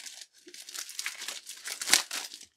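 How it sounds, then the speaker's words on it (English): Foil wrapping on a multipack of Topps Turbo Attax trading cards is ripped open by hand, a close, busy burst of crinkling and tearing that peaks in one sharp rip near the end, with no voices. "Shall I just rip into it?"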